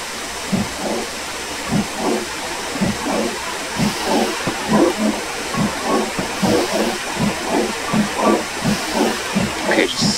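Steam locomotive in Train Simulator 2020 on the Settle and Carlisle line easing forward, with steady rhythmic chuffing exhaust beats over a continuous hiss of steam.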